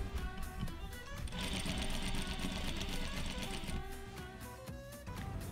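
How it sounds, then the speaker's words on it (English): Sewing machine running a 1/4 inch seam along the welt pocket of a tailored jacket, a rapid close mechanical stitching chatter that speeds and pauses, with faint voice in the background. "stitch by machine with a 1/4 inch seam allowance"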